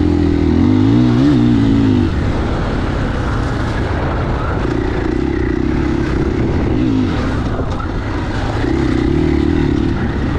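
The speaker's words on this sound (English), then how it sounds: "Just like how quiet this bike is." A 2021 KTM 500 EXC-F dirt bike engine runs steadily and loudly close up while riding laps, with throttle rising and falling in a continuous broadband roar and buzz.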